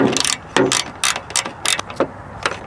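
A socket ratchet on an extension clicks in quick, uneven bursts while snugging down 10 mm bolts on the wiper motor and linkage of a 2001 Volkswagen Beetle. The sound is close and crisp.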